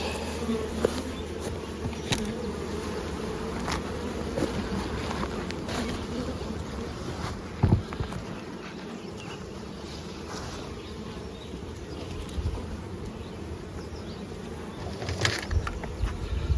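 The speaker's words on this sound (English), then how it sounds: "Give or take a couple of bees that fly out." A steady, close swarm of honey bees buzzes continuously, a dense droning hum with occasional louder passes near the listener.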